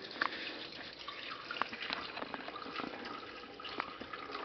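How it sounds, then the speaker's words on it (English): Water poured gently by hand over a paper coffee filter, making a steady, soft trickle and splash that carries on for several seconds at close range, with no talking. "Filter. Paper. Pour the water. Nice and easy."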